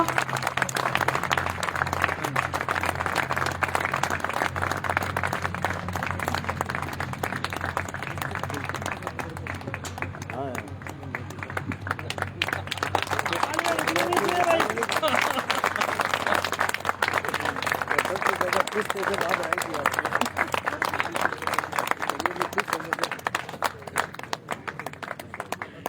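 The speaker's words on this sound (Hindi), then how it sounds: "मिस्टर अयूब खान सर के लिए एक जबरदस्त तालियां होनी चाहिए" Audience at a Phyto Atomy depot grand opening in Didwana clapping to welcome a guest, steady sustained applause that carries on without a break through the whole stretch.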